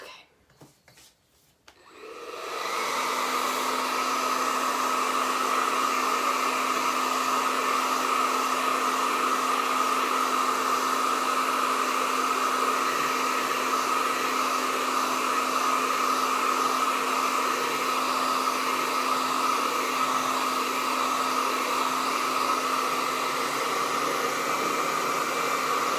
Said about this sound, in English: I'm gonna go ahead and dry this real quick